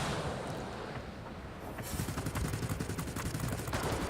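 An aircraft's front machine gun fires in the IL-2 combat flight game, rapid rattling bursts over a steady engine drone, fairly faint overall.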